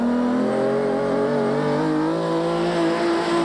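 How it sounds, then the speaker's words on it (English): A 1988 rally car with straight-cut gears and a Verwey gearbox, running at the Wesbank International Rally in the Eastern Transvaal, its engine droning loud and steady with a high gear whine, alone and close by. "That's straight cut gears in action, a Verwey gearbox."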